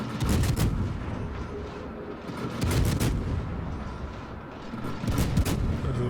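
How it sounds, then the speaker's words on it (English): Cruiser guns firing in World of Warships aboard the French tier-10 Colbert: a few heavy booming salvos with rumbling tails, loud and close, spaced a couple of seconds apart over continuous battle noise. "We're gonna fire."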